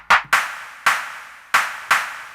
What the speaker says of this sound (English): Got some crispy claps in here.